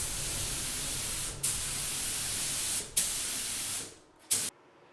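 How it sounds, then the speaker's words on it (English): A spray gun lays lacquer finish onto a cabinet work surface with a loud, continuous hiss. The hiss breaks off briefly twice, stops near the end, then returns in one short final burst. "I'm spraying at a little bit slower rate"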